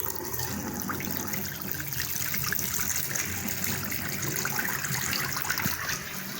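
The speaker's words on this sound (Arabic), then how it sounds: "افتح المية." Steady hiss and splash of water running from a tap while a Vaillant gas water heater is tested in a fifth-floor apartment. The flow is continuous and fairly close, with no talk over it.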